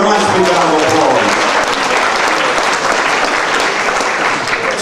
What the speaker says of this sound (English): give her a nice big round of applause